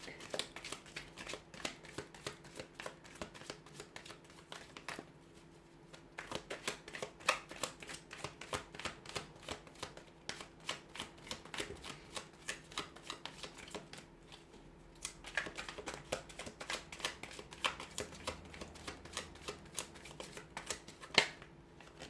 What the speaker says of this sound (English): we'll go ahead and give the cards a shuffle